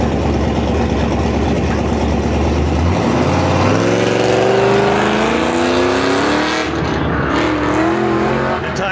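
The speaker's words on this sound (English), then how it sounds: "Andrew Chenoweth in the Summit Racing Corvette." A Summit Racing Corvette runs an autocross course at a Goodguys Colorado event, its engine loud and close throughout, starting low and then revving up hard in rising and falling sweeps as the car accelerates and shifts.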